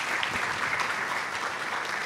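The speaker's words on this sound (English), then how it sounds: "saying to the organizers of this conference a huge round of applause" A conference audience in Izmir claps together in a dense, steady round of applause that holds at an even level throughout, with no voices over it.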